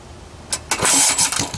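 A 1948 Briggs and Stratton WMB small engine catching on a cold start, sputtering and popping briefly before building into a loud, uneven running clatter at close range.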